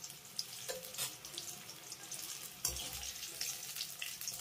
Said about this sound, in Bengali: বেগুনটাকে হালকা লাল করে ভেজে নিয়েছি,